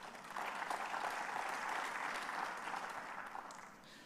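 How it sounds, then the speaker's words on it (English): A conference audience claps for itself, a full, steady burst of applause starting abruptly and tapering slightly near the end, fairly distant and soft. "And I would like you to clap for yourself."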